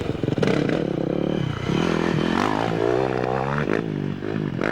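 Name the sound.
Yamaha YZ400F four-stroke motocross motorcycle engine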